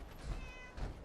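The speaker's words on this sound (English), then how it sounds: "They got 2 cats wandering around outside, digging in the neighbor's garbage." A cat in the Fallout 4 Far Harbor video game, one of two strays rooting through garbage outdoors, gives two short, faint meows about half a second apart.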